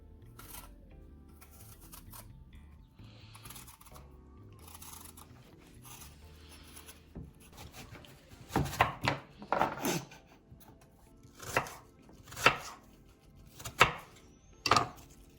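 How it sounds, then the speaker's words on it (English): An apple is peeled and then chopped on a board for a mug apple crumble. Soft faint scraping gives way to a handful of sharp, irregular knife thuds near the end. "we're gonna peel the apple and chop it up."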